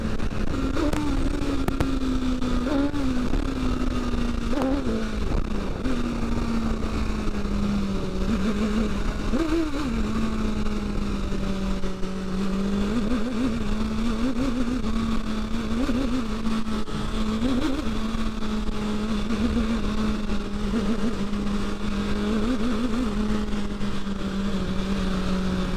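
BMW S1000XR motorcycle riding and accelerating, a continuous engine drone that rises and dips as the throttle changes, with steady wind rush throughout.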